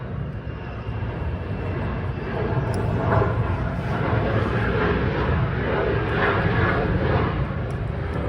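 Steady broadband roar of a nearby airplane engine beside an airport, swelling slightly and holding loud throughout, with no voices.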